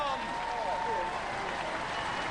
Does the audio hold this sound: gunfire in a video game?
no